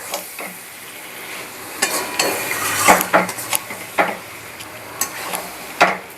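Marinated mutton being sautéed in a pan for a light mutton curry, with a soft background sizzle broken by repeated scraping and stirring clinks of a utensil against the pan, close up and with no talking.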